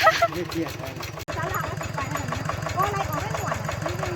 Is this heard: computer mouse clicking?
no